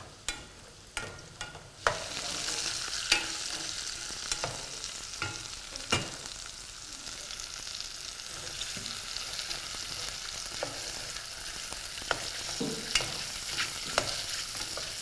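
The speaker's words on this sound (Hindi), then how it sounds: "लेकिन मैं चाहता हूँ कि मशरूम थोड़े ओवर कुक करूँ" Mushrooms frying in ghee in a pan while being stirred, a steady close sizzle with repeated scraping stirs and clinks throughout, no talking.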